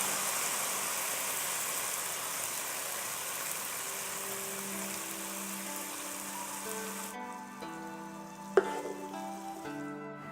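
Green beans stir-fry in a hot pan with a steady, dense sizzle for several seconds, then the frying cuts out, leaving a quieter hum and a single sharp clink near the end.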